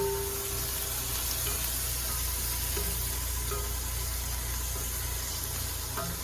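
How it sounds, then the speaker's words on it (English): Food for albondigas sautés in a pan while being stirred, giving a soft, steady sizzle close by with faint scraping and no talking. "let that cook, and saute a little bit. Stir it."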